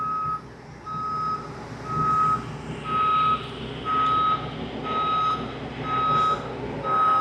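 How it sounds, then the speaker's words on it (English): Front axles extend out on a big boom lift (manlift). A loud, regular motion-alarm beep repeats about once per second over a constant engine drone, close by and with no talking. "Now the front wheels are pivoting, and now the front axles will extend out."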